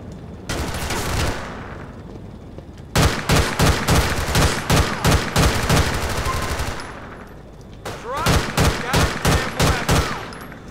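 Rapid automatic gunfire in GTA IV, in three loud bursts of sharp evenly spaced shots separated by short pauses, each burst trailing off with echo.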